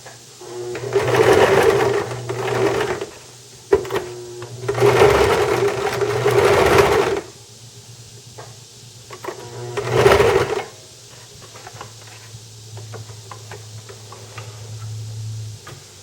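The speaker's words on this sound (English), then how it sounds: "But a sewing machine will be a little bit quicker." A sewing machine stitches in three rapid bursts of whirring, ticking needle strokes, separated by quieter pauses with a faint motor hum.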